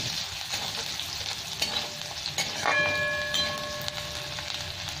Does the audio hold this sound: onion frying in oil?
yes